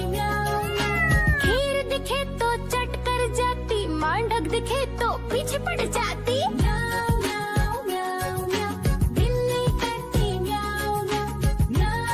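Sung meows in a Hindi children's rhyme, a melodic voice imitating a cat over a busy, steady musical backing with chimes and beat; the meow calls repeat through the song rather than coming from a real cat.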